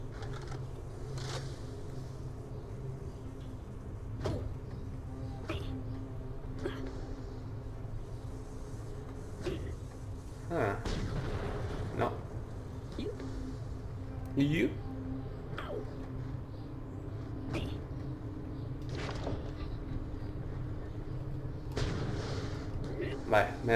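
Gunfire in Borderlands: The Pre-Sequel comes as scattered sharp shots and booming blasts over a rumbling game backdrop, spaced irregularly, with a voice talking throughout.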